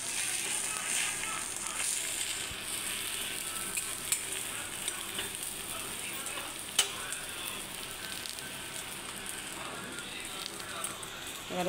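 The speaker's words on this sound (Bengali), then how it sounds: "আরও আমি কটা ডিম ভাজবো" Eggs fry in a pan with a continuous bright sizzle and crackle, broken by a few sharp pops.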